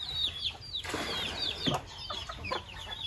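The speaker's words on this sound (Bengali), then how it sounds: "আর এইফালে মুরগি পোয়ালিকেটা চাও" Chickens and chicks in a village yard, a faint scatter of high peeping and soft clucks with a brief flutter of wings, heard from a short distance without talk.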